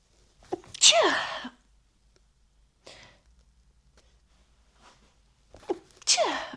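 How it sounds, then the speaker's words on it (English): Two close, loud sneezes a few seconds apart, each with a sharp intake before it, separated by quiet breathing. "I need to sneeze"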